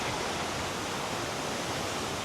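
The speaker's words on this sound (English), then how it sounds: "I just follow this river next to me all the way to the Blue Eye." A river runs near the Blue Eye in Theth, Albania, giving a continuous, even rush of flowing water that sounds close and fills the whole moment without any voices.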